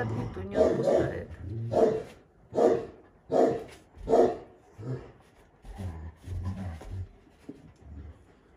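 Dogs on a bulldog training ground, growling and giving rough, rhythmic bark-like vocalisations in a series of about six loud bursts close by, then quieter low grumbling.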